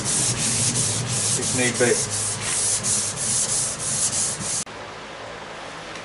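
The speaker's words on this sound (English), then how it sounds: "I've got 800 grit sandpaper. So, the plan is to just gently rub this whole thing down." A Nissan Skyline R33 GTST front bumper bar is hand-sanded with 800 grit sandpaper, steady close back-and-forth rubbing strokes that stop abruptly near the end, with a few words spoken briefly over it.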